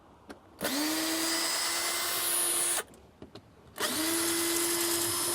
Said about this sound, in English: I'm going to take my screw gun and start removing these screws.